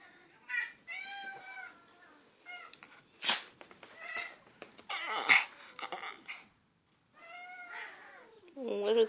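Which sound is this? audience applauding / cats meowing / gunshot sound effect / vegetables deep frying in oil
cats meowing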